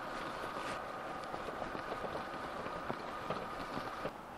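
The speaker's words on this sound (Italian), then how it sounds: "Adesso che il motore è in funzione" A car engine idles steadily after being rope-started, with the vehicle lowered and left running on a roadside; a continuous broadband hum with wind buffeting the microphone throughout.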